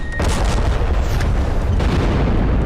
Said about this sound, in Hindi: भारतीय सेना के सबसे नए जोरावर टैंक ने कई राउंड